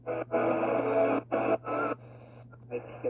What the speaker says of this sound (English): it's finding a lot of stations